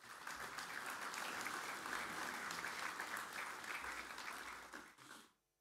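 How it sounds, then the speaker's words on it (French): Sustained applause from the audience at the general assembly of the Aisne hunters' federation, a dense steady patter of many hands that holds for about five seconds, then fades quickly to silence. "vos applaudissements"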